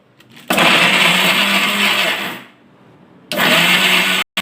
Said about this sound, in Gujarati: હવે આને મિક્સચરમાં ક્રશ કરીશું